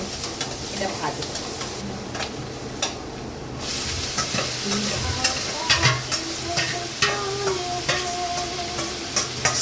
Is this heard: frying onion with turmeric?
yes